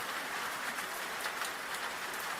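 Soft, steady rain patters continuously in a hushed wash of fine droplets, with no voices or other sounds over it.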